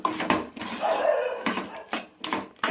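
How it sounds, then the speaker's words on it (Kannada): Chitranna, a spiced rice dish, is stirred and mixed in a pan, giving close, uneven bursts of scraping and clattering against the metal with short pauses between strokes and no talking. "ಈ ಥರ ಫ್ರೈ ಮಾಡಿ ಈ ಥರ ಚೆನ್ನಾಗಿ ಮಿಕ್ಸ್ ಮಾಡಬೇಕು"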